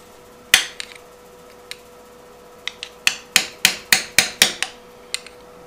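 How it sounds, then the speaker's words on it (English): Sharp metallic pounding with a Harbor Freight screwdriver during a crankshaft seal change on a Kawasaki 19 horsepower engine: a few scattered strikes, then a quick run of about seven close, loud blows. "These Harbor Freight screwdrivers are great for pounding stuff."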